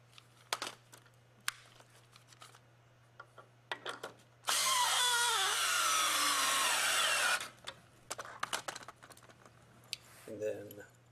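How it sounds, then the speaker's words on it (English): A power drill whirs for about three seconds, driving a leg bolt into a log porch swing, with a speaker talking faintly and scattered clicks and taps before and after. "Then just tighten the leg bolt up with your drill or socket set."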